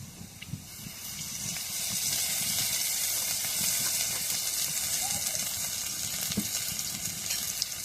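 Onion sizzling and frying in hot oil, a steady hiss that fills the clip with occasional faint stirring scrapes and pops, heard alone at moderate volume.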